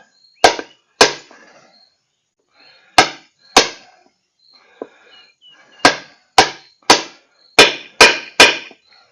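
A large socket is hammered to drive an oil seal into the oil pan of a Briggs & Stratton V-twin engine, giving sharp metallic strikes, some in quick pairs and clusters, with short pauses between, close and loud.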